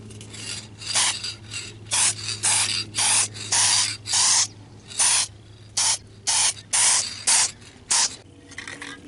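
Adhesive promoter sprayed from an aerosol can inside a Ford Explorer Sport Trac cab, covering the dash: repeated short, loud hissing bursts of about half a second each, separated by brief pauses, with no talking.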